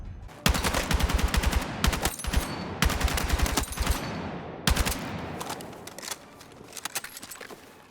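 L85A3 rifle firing on a Battlefield 6 firing range: sharp, loud automatic bursts in several clusters, separated by brief pauses, with a trailing ringing decay.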